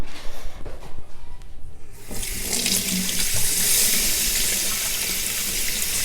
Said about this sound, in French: Maintenant, je vais me laver un peu les mains